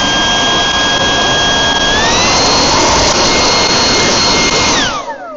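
A cordless leaf blower runs loudly and steadily with a high-pitched whining fan tone and broad rushing air, the pitch stepping up midway before winding down as it shuts off.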